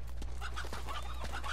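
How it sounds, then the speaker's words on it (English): Soft clucks and chirps from chickens in the video game Uncharted 2, a few short calls over a steady low background hum, faint and without speech. "They're chickens."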